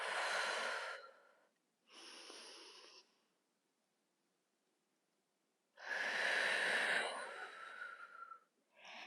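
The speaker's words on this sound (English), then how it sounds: "Inhale, exhale." Slow, deep breaths in and out during a step-up exercise, close and clear: two long breathy exhale-and-inhale bursts separated by several seconds of near silence, with no speech.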